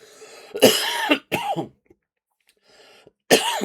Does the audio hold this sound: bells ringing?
no